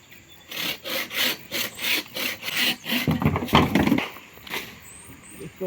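Plant roots being cut beside a large bougainvillea flower pot, a rhythmic rough sawing and scraping in repeated strokes, close and moderately loud, with someone talking faintly in the background.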